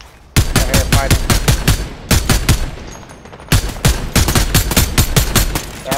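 Heavy rapid gunfire in the video game Fortnite, loud close bursts of automatic shots in three long strings separated by short pauses, dense and rhythmic throughout.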